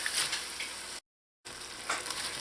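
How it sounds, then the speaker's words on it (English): Pigtails and parboiled brown rice fry in a pot, giving a steady close sizzle and crackle. The sound cuts out briefly partway through, then the frying resumes at the same level. "now that this has been frying up in here for about 5 minutes"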